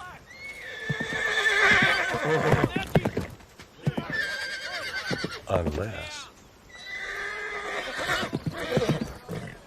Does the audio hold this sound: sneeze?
no